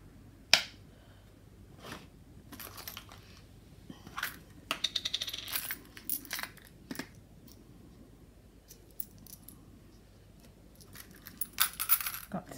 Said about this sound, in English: and then I'll just cut the corners off